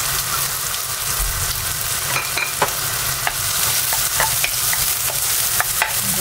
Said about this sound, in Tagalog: igisa lang natin hanggang sa lalabas yung aroma niya